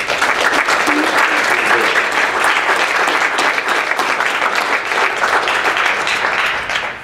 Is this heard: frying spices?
no